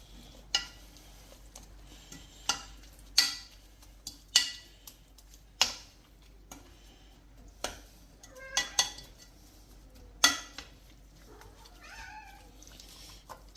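A spoon scraping and clinking against a cooking pot while food is stirred, a series of sharp metallic knocks at irregular intervals over a faint background, with a cat meowing briefly near the end.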